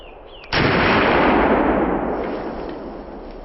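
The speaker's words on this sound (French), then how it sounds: "Petit ralenti du tir de ce dernier sanglier de la compagnie" A single sharp rifle shot fired at a wild boar during a driven hunt cracks loudly and close, then rolls into a long, slowly fading echo over the woods.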